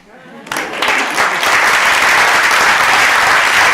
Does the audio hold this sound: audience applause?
yes